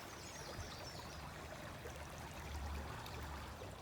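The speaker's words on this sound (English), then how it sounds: "now that we've checked out the creeks" Shallow creek water flows steadily over stones outdoors, a continuous close, even trickle and babble with no voices.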